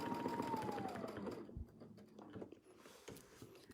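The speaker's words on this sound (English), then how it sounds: "we'll just sew around our circle till we get right into our next crosshair line" A sewing machine stitches around a circle guided by a Westalee ruler, a quiet steady whir with a soft mechanical chatter that briefly pauses and resumes.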